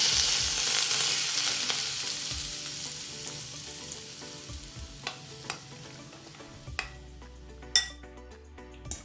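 Sunflower oil sizzles steadily in a hot pan for a carrot dish, a dense hiss that slowly fades, with a few sharp utensil clinks and taps near the end.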